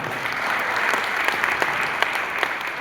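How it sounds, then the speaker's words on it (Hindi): Loud, sustained applause from an audience at a seminar, dense clapping filling the whole stretch with a few sharper claps standing out. "बहुत जोरदार तालियां हो जाए"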